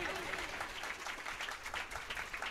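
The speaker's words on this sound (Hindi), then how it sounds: "जोरदार तालियां" A church congregation on Pastors Appreciation Day breaks into sustained, dense applause, many hands clapping together at a moderate distance with a faint crowd murmur underneath.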